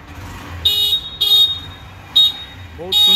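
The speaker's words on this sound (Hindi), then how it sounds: "हॉर्न टिके बजांतु भाई" Four short, bright beeps sound from the horn of a 2025 black Honda Shine 125cc motorcycle, loud and close, separated by brief pauses.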